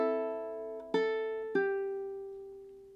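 Ukulele chord melody from the folk tune Loch Lomond rings out: a sustained chord, then two fresh strums near the one- and one-and-a-half-second marks, each left to decay. Clear, close and played alone without talk.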